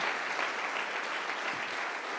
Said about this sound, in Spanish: ¿Cuántos se atreven a aplaudir su nombre?